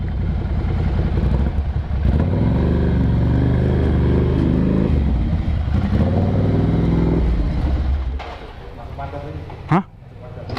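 A Ducati Scrambler motorcycle engine revs hard at full throttle, a loud, low, rumbling roar with rising and falling surges for about eight seconds before dropping away, followed by a brief sharp clatter.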